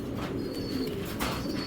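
Racing pigeons being shown at a loft sale cooing softly in the background amid a steady, noisy room tone, with no clear talking.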